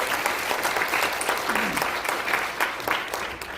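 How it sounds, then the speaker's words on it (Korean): An audience in a large conference room at the National Assembly members' office building bursts into sustained clapping for the final presenter at a forum, a dense wash of hands that lasts throughout and fades slightly at the end, with a voice faintly underneath. "마지막 발제 큰 박수 부탁드리겠습니다."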